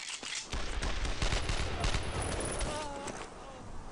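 Rapid bursts of rifle and machine-gun fire crackle loudly in the World War II shooter Brothers in Arms: Road to Hill 30, a dense near fusillade of overlapping shots for several seconds.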